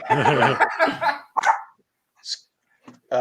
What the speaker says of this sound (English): Anybody want a dog? Anybody need a dog? I have a dog.